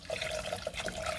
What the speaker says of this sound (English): Our water is boiling, as you can see